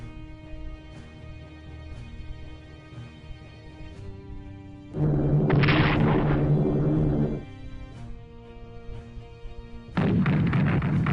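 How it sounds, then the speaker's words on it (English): Artillery fire in the WWII strategy game Strategic Command, heavy booming salvos in two loud bursts over a steady background music bed, without speech. "See how you like a mouthful of artillery shells"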